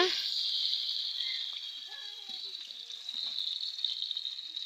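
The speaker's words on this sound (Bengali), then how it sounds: "ওই পাশে আমার আলু বাজা বেগুন ভাজা হচ্ছে" Potatoes and eggplant fry in a pan with a steady high hiss of hot oil that fades slightly before strengthening again, a soft crackle in the background with no speech.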